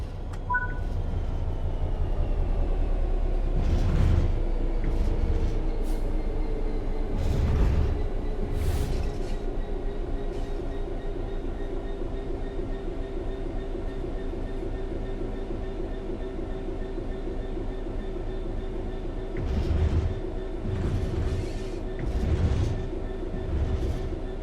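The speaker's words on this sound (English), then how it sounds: "The train will then coast on level ground, and the train will only slow down very gradually." A train in the Train Sim World 3 game coasting on level ground with the throttle at zero, giving a steady low rumble with faint tonal whine and occasional clattering bursts of track noise throughout.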